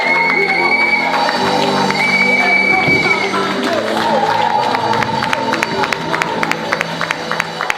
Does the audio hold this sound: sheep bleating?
no